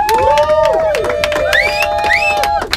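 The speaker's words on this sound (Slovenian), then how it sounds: "Dajmo en velik aplavz, prosim" A lively crowd in the Studio Glas underground boiler room cheers and whoops for a band. Rising shouts carry over scattered claps, close and loud throughout.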